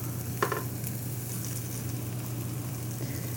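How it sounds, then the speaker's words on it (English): Chicken apple sausages in a hot skillet give a soft, steady sizzle with a brief clatter near the start, quiet and close over a low constant hum. "Skillet's hot there, you can hear it sizzle."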